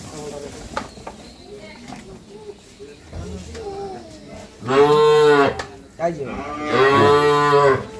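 Two loud, drawn-out moos from a Sahiwal calf at a farm in the second half, each lasting over a second, following quieter talking and background voices.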